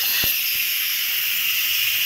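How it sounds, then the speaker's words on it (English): An Instant Pot electric pressure cooker releases steam in a steady, loud, broad hiss, with a brief low thump near the start and no talking. "So I'm going to start the steam release right now."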